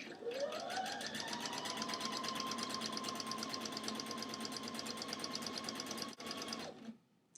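A sewing machine stitches lace onto a T-shirt sleeve with a fast, continuous, close-up mechanical whir. The motor rises to speed at the start and stops near the end.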